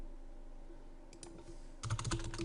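Keystrokes on a computer keyboard, sparse at first and then a quick burst of close, clattering typing toward the end, in a quiet room.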